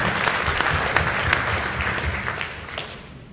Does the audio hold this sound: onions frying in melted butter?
no